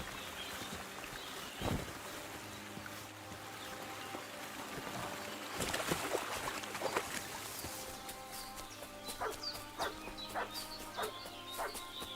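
A dog in Kingdom Come: Deliverance 2 barks in a few sharp yips, one early and a cluster later, moderately close over quiet outdoor ambience.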